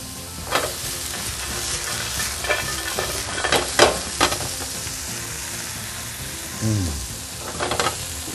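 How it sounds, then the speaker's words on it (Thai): Coriander root and garlic stir-fried with salt in a hot pan on a Thai cooking show, a constant close sizzle broken by repeated scraping strokes and clanks of the spatula. "เดี๋ยวขอผัดให้เขาหอมนะครับ"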